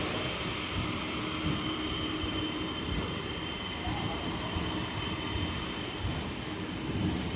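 A Majerhat to Barasat local train sits at platform 1 of Tala station. A steady, dense rumble and hiss of train and station noise carries on without a break from start to finish.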